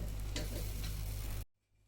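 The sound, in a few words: dosa-like batter sizzling on the pan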